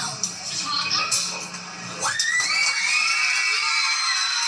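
Schoolchildren at Our Lady of Mount Carmel Academy in Chicago cheer and shout together, a bright sustained crowd of young voices that rises into a louder, higher swell partway through.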